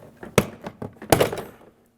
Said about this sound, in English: Now we can go ahead and grab that door panel and tug that off.